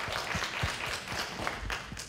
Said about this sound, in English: a hand of applause to Henry for helping